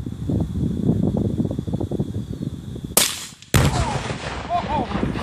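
A rifle shot sets off about 15 pounds of Tannerite packed inside a freezer, a sudden loud outdoor blast that cuts through steady wind and background rumble, followed by a brief drop and then a rolling, echoing roar.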